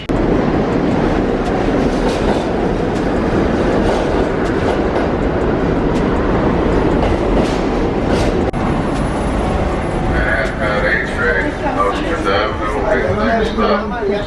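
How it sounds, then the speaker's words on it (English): A New York subway train rumbles steadily with a loud, continuous roar and rattle, then screeches and squeals as it slows, while a voice talks over it. "I'm on the train,"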